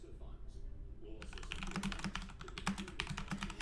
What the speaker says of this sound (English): I'm typing this in the trade room here.